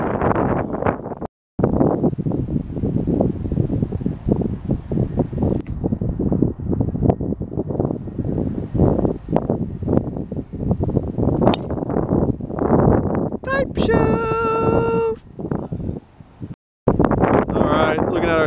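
Strong cold wind on an open golf course roars and buffets the microphone almost without pause, loud and close, with a few short gusty drops and a brief high chirping tone near the end.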